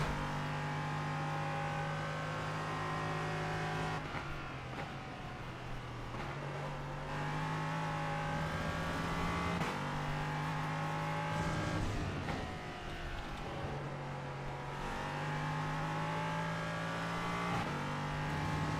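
Race car engine droning steadily through the twisty sections of Donington in a racing sim, pitch rising and falling with brief dips at gear changes and braking, loud and continuous with no talk.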